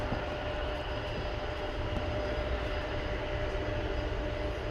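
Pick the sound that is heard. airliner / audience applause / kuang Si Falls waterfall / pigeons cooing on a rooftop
airliner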